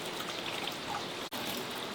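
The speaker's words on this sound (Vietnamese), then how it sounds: "Nước nó ra rồi này" Water from a tap runs steadily into a sink, a continuous close hiss of flowing water broken once by a brief cut.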